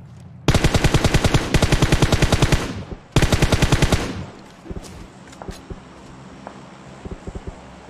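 Gunfire in the mobile battle royale game PUBG Mobile comes as two long, loud, rapid automatic bursts, followed by quieter scattered single shots in the distance.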